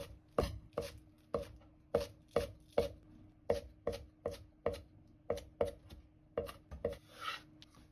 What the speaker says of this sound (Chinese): 葱叶切成葱花，这个是出锅的时候再放入